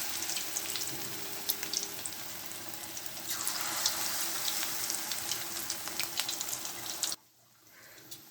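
Potato and carrot chops coated in biscuit crumbs fry in oil with a steady, close crackling sizzle and scattered pops for about seven seconds, then the sound cuts away to near quiet.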